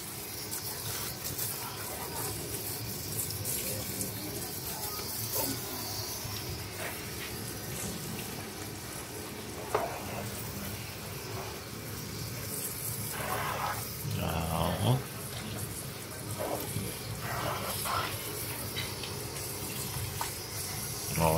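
Water spraying over a motorcycle during a wash, a steady hiss of running water from a hose lasting throughout, with a few louder splashes and knocks partway through and no talk.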